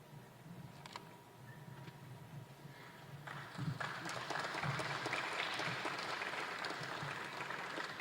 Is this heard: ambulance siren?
no